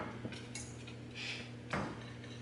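Utensil scraping and clinking against a bowl while chocolate is stirred to melt it, a few light taps and one louder scrape, close and alone over a steady hum.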